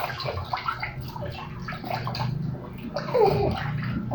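Water splashes and sloshes in a tub while a baby is bathed, steady wet churning throughout with a brief louder surge near the end and a voice or babble faintly mixed in.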